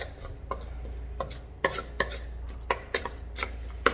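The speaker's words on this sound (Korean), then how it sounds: "안에 그 설탕과 소금이 잘 녹을 수 있게 잘 저어주시고요." A spoon stirs kimchi seasoning with sugar and salt in a bowl, making a rhythmic series of sharp clinks and scrapes against the bowl, close and clear with no talk.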